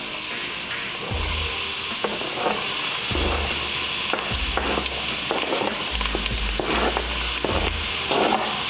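Chopped vegetables stirred into very hot oil in a pot for New Orleans style seafood gumbo, with a loud continuous sizzle and fry hiss and repeated scraping stirs close up, no voices.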